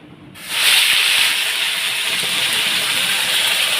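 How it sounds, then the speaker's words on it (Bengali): Onion and ground spice paste hits hot oil with a sudden loud hiss, then settles into a steady, close sizzle that continues for several seconds. "এই দিকে এখন আমি পেঁয়াজ এই সব মশলা বাটাগুলো দিয়ে দেব তো দিয়ে দিচ্ছি"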